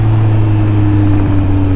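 Kawasaki Z900 superbike fitted with an Austin Racing slip-on exhaust, a loud, steady, deep engine drone held close to the bike for a short stretch without talk.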